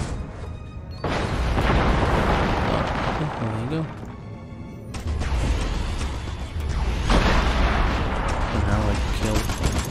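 A base being blown up in the video game Destroy All Humans, with continuous loud rumbling explosions and gunfire-like crashes that dip briefly in the middle, while voices talk over the chaos.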